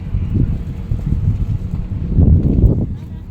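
Steady low wind rumble buffets the microphone at a pier, swelling louder toward the end, with a faint engine-like drone underneath.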